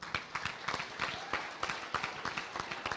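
A modest crowd at a 2019 Kansas FFA state results ceremony gives a round of applause, with individual claps clearly separate in a loose, scattered rhythm at a moderate distance.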